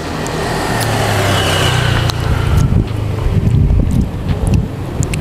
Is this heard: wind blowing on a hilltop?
yes